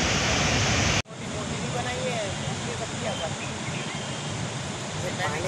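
Water rushes from the opened gates of the Indira Sagar Omkareshwar Dam as a loud, constant roar of churning flow, starting after a brief abrupt cut and continuing without letting up.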